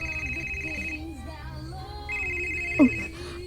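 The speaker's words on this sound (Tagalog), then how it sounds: "Oh, ang akong cellphone." A cellphone rings with a steady, repeating electronic tone, sounding in two long bursts with a pause between, over a low background hum and soft voices.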